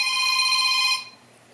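A telephone rings indoors during a talk about using a 4K UHD TV as a computer monitor, giving a steady electronic ring for about a second before stopping abruptly, with no voices over it.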